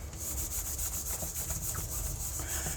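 A cloth rubs soap along the edges of tarot cards: a close, soft, continuous scuffing and rasping with a faintly rhythmic back-and-forth texture, and no talking.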